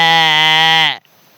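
A man imitates a sheep bleating outdoors in a park, holding one long, steady, buzzy bleat for about a second before it cuts off abruptly into quiet.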